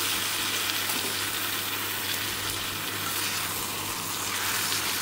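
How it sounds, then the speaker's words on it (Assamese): Meat frying with onions, ginger and garlic in a pan makes a loud, continuous hiss of sizzling oil, close up and steady from start to finish, with no voices. "ফ্ৰাই হৈ আছে তাৰপিছতে বিলাহী দিম"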